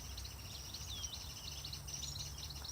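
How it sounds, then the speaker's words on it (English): Several birds chirp and tweet in quick, high bursts over a faint low background hum, fairly distant and soft. "Listen to those birds."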